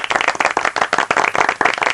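Rapid, loud hand clapping close by, a steady burst of sharp claps lasting a couple of seconds with no voices.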